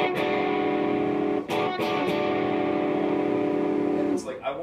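Sustained distorted electric guitar chord through a Korg PME-40X waveshaper pedal, buzzy and harmonically dense, ringing out with a couple of brief interruptions and a pick scrape near the end.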